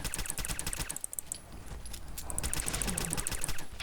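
Rapid gunfire from the modded Furious Instigating Deliverer weapon in Fallout 4 during VATS targeting: bursts of sharp cracks fire in quick succession, pause briefly, then resume as a steady volley.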